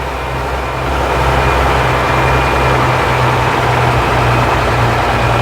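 A 1958 Leyland PD2 double-decker bus pulling away, its engine a loud, steady low rumble that swells slightly after the first second and holds a constant drone from close inside the vehicle.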